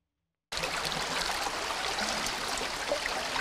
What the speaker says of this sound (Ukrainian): Течія несе гори сміття та важкі колоди дерев, які підхопила з берегів на своєму шляху